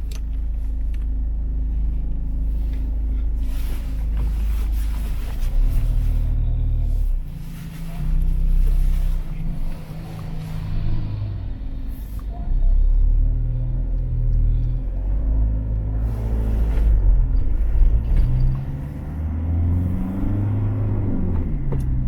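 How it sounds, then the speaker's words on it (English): A bus approaches and passes on a narrow village road with a heavy low rumble, engine swelling and fading in waves, loud and near, with other traffic noise between. "Oh, now we got another bus coming."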